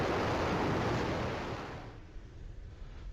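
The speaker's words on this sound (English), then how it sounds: "a static test fire of their Rocket 3" Rocket Lab's Rocket 3 engines roar during a static test fire, a loud broadband rushing blast that holds steady and then drops away sharply into quieter residual rumble as they shut down.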